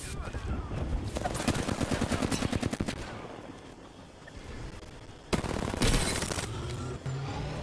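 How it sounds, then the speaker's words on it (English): Rapid automatic gunfire rattles in long bursts in Apex Legends, loud and close, broken by a pause before heavy renewed shooting, with a voice speaking during the quieter stretch. "you broke a shield"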